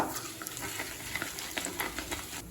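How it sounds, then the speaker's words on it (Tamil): Urad dal and chana dal roasting in a pan for hotel-style kara chutney, a soft continuous sizzle with light scraping and stirring close by, no talking. "இப்போ உளுந்து கடலைப்பருப்பு நல்லா கலர் மாறுற வரைக்கும் வறுத்துக்கலாம்."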